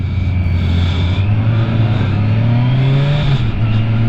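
A Kawasaki Versys 1000 SE LT+ motorcycle engine revs loud and close, its pitch climbing steadily over a few seconds and then dropping back.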